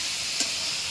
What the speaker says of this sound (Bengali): এখানে মাংস ভাজা হচ্ছে এখন।